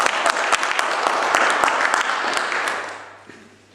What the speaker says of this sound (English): let's have a round of applause for Sonia